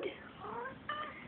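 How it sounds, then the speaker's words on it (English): A cat meows in short, tonal, wavering cries at close range, two calls in quick succession, with a voice also present. "Hi, pretty cat."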